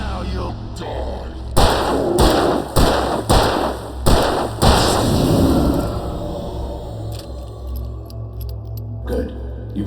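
Gunshots in Alan Wake Remastered: a run of loud, sharp bangs spaced about half a second apart near the start, then a low rumbling ambience as the shooting stops.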